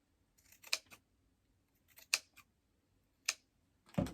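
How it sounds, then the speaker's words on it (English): Scissors or snips cutting excess wire from a wire-basket planter: three separate close, sharp snips spaced about a second apart, then a louder clack at the end, no talking. "I'm going to trim off some of this"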